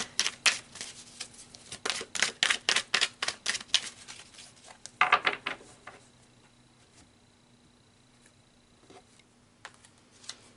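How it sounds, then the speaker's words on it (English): Tarot cards shuffled and dealt in a rapid run of crisp riffling snaps for about five seconds, then a brief burst of flicks, followed by near silence with a faint soft tap near the end. "So let's pull some more cards"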